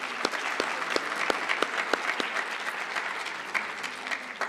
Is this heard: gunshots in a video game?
no